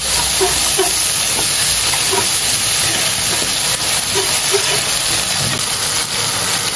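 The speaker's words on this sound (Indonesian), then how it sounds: "kita aseng-aseng dulu bumbunya" Sambal spice paste sizzling in a pan while being stir-fried, a loud, steady hiss that carries on without a break, with faint clinks of stirring underneath.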